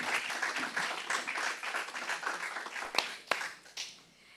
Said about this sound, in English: Can you have a round of applause for Resilco?